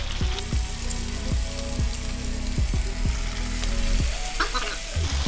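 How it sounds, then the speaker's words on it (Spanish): Ecuadorian corviche (mochines) sizzle and crackle steadily in hot oil, a dense, close frying hiss under faint tonal sounds. "el aceite ya está listo para freír los mochines"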